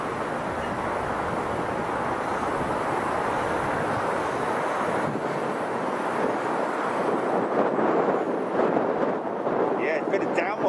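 A jet airliner passes at Chicago O'Hare airport, a broad, steady roar of engine noise and rushing air filling the whole clip, loud and close, with a faint higher whine fading in near the end.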